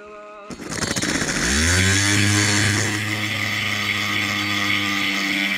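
A small two-stroke engine, likely a chainsaw-type tool, starts, rises in pitch and then holds a steady, loud buzzing drone at about half throttle, close by and with no voices.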